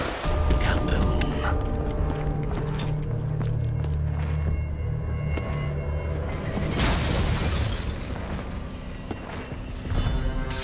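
An explosion in the Call of Duty zombies map Gorod Krovi, with a loud, dense booming rumble that holds steady, then a sharper burst of crashing debris partway through, amid layered game sound effects.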